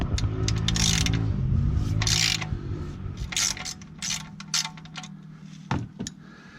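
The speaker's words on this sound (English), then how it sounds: "so we just undo this plug and let the oil out" A ratchet loosens a car's oil drain plug, giving rapid, close metallic clicking with a steady ratcheting rhythm that slows and becomes intermittent.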